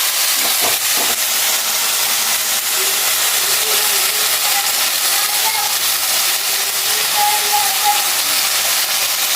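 A pressure cooker of country chicken curry vents steam in a loud, continuous broadband hiss that holds steady throughout, close by, with faint background sounds beneath.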